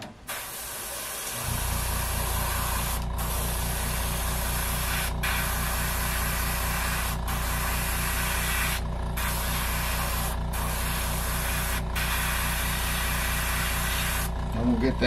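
An airbrush misting Space Dust paint onto a Whopper Plopper fishing lure, a continuous close hiss with a steady hum beneath, broken by a few brief pauses over a long stretch.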